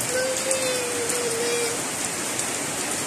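Heavy rain falls on a farm, a continuous close hiss of drops hitting a surface, with no pauses.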